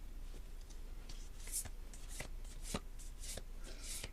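An oversized deck of playing cards is shuffled in a quiet, close setting, giving soft, crisp riffling bursts and card flicks in an irregular rhythm.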